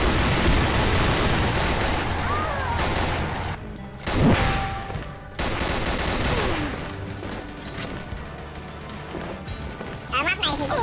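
AK47 Silver rifle gunfire in a Chinese legendary-campaign shooter game, loud rapid bursts and single shots with brief pauses, a sharp crack near the middle and scattered battle noise, no talk.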